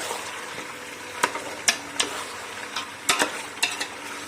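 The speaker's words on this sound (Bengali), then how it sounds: "আলুগুলো দিয়ে দিয়েছি দিয়ে আমি দু একবার এরম করে কষে নেবো" Fried potatoes being stir-fried into a meat curry in a pan, a low sizzle punctuated by several sharp spatula scrapes and clacks at an uneven rhythm.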